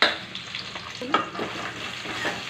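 Chopped onion sautéing in a pan, with a close, steady sizzle under several quick spoon scrapes and stirs, fairly loud and without talk.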